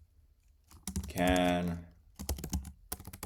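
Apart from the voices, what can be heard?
computer keyboard typing a query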